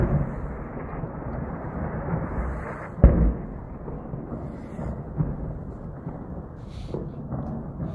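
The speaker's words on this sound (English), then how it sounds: "It's just a bunch of explosions." Explosions from news footage of a US and Israeli strike on Iran, a low rumbling background broken by one sharp blast and a second fainter thud, heard at a distance.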